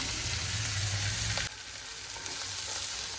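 Fenugreek leaves dropped into hot garlic paste in a pan for a Gujarati lehsuni methi dish, a loud close sizzle that cuts back sharply partway through to a quieter steady frying hiss.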